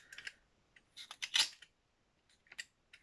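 Scissors snip through very sticky double-sided tape in a handful of short, quiet, crisp cuts, with gaps of silence between them.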